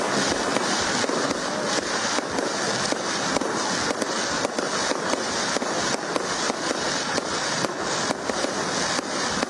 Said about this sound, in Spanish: Porque con fuegos artificiales.